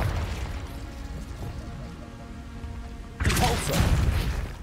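Confringo fire spell explosion in the Hogwarts Legacy video game, a sudden loud burst erupting after a stretch of rumbling background noise and lingering as a crackling blast.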